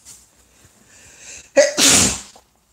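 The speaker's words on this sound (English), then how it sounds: "I'm gonna sneeze again" A single loud sneeze, preceded by a faint drawn-in breath and a short build-up, close to the microphone, followed by silence.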